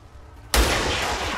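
A sniper rifle fires once in the video game XCOM 2: one sudden loud crack after a quiet start, followed by a long, dense rumbling tail that fills the rest of the moment. No one talks.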